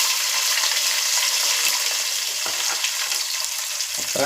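Garlic, fenugreek and spices sizzle in hot oil in a pan for tempering, a steady close hiss of frying with faint stirring clinks near the end.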